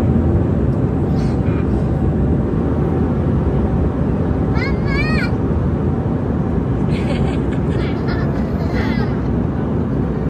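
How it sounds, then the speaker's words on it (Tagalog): Steady loud broadband hum inside an airplane cabin before flight, with faint chirpy voices and a child's cries breaking through now and then. "Andito na kami sa loob ng aeroplano."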